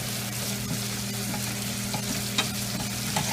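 Onions frying over medium heat in a pan with occasional stirring, a steady close sizzle broken by soft scraping strokes, with no one speaking.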